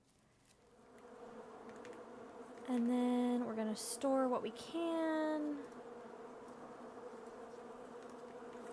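Loud, steady buzzing of a bee swarm in the Island Beekeeper video game, droning throughout at close range while someone talks over it and a few brief chiming interface tones ring out midway.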